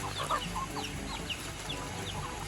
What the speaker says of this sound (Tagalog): Ang manok.